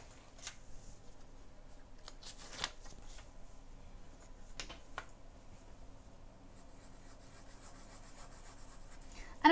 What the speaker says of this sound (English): So this is supposed to erase.